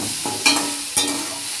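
Soybean curry ingredients sauté together in a hot pan, with a steady soft sizzle broken by two sharp scraping strokes of a spatula, close and alone.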